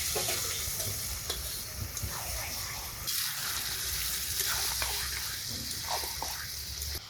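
Chicken sizzles and spits in a hot pan over browned onions, a steady frying hiss with occasional stirring scrapes, fairly quiet and close.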